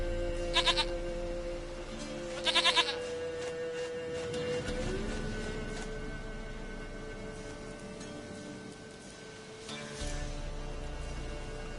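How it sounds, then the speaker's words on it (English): Goat bleats in The Witcher 3, a pair of short loud bursts early on and another near the end, over a steady game music bed with no talk. "Goat of mine, dearest, sweetest goat."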